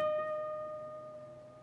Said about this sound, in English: once you've bent it up, you will then play a vibrato there at the top of your bend